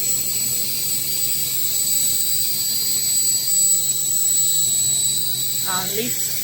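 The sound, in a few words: shisha tobacco packing line wrapping machine running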